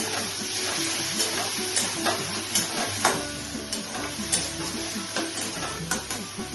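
Coconut paste and prawns sauté in a pan for prawn tondli curry, a steady sizzle broken by regular scraping strokes of a spatula, close and fairly loud, with no talking.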